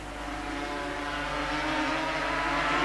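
250cc racing motorcycles in a 1988 road race at Baskerville, a dense continuous engine drone from the closely bunched pack that swells gradually louder as the bikes approach; no talking.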